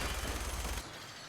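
Rapid gunfire from a firearm in Fallout 4, played in survival mode. It sounds as a dense, loud burst of shots that cuts off abruptly partway through, leaving a quieter, thin ambient tail.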